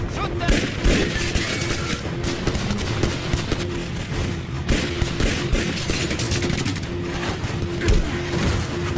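Rapid bursts of gunfire from an action crime movie scene, dense volleys of shots with booms, loud and continuous with shouted voices mixed in.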